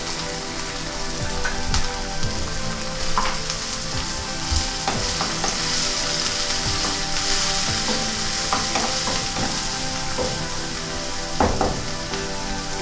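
Onion and three-colour capsicum sautéing in a pan for chicken fried rice, a continuous loud sizzle with scattered clicks of a spatula against the pan, no talking.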